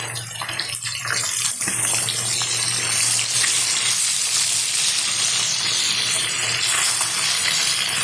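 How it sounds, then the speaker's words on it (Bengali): Pomfret fish pieces fry in hot oil with a loud, steady, dense sizzle that runs close and continuous throughout, with no talking over it. "এখানে অল্প অল্প মাছ ফেলে ভেজে নিতে হবে মাছগুলো একটু উল্টে দিচ্ছি"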